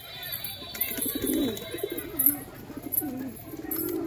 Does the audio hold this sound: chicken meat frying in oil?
no